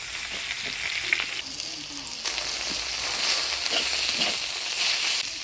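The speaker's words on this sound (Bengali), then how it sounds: "ফোড়নে দিয়ে দিব শুকনো লঙ্কা কালো জিরা থেতো করা রসুন" Dried chili, black cumin and crushed garlic drop into hot oil for tempering, a dense close sizzle that flares up sharply partway through and keeps crackling steadily with light stirring.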